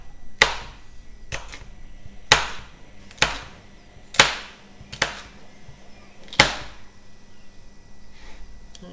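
A knife dices lined-up vegetable strips on a cutting board, giving about eight crisp, sharp chops at an irregular, unhurried pace, close and clear without any talking.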